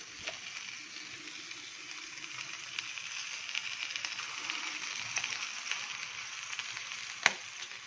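Chicken pieces and garlic sautéing in hot oil in a pan, a steady close sizzle and crackle with a few faint clinks and one sharp tap near the end.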